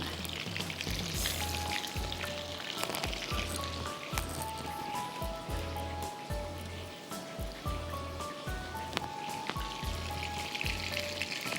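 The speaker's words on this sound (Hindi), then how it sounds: "अंडे के बाद पैंको के ब्रेड क्रम्स को चॉपराइज करके उसमें कोट करना है और फ्राई करना है।" Panko-coated fish fingers fry in hot oil with a dense, continuous sizzle and crackle, steady throughout, over a faint low rhythmic thumping.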